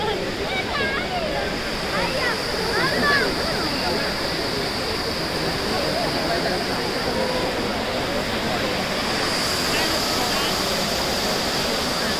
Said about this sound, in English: It's a famous Trevi Fountain.